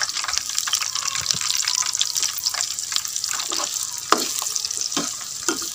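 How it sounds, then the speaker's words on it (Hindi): Chopped onion dropped into hot oil for a bhindi aloo dish, a loud, busy close-up sizzle and crackle with continuous stirring scrapes and a few sharper spatula taps. "ऑयल गर्म हो चुका है। अब इसमें शामिल करेंगे प्याज।"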